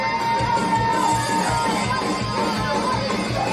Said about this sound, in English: what a big pop from the crowd here. It's deafening.